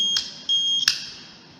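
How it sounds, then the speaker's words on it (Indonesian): A simple digital-logic fire alarm circuit sounds sharp electronic beeps, with a short blip, then a steady piercing tone, then another sharp beep that fades away, loud and close with no voices. "Maka alarm akan berbunyi."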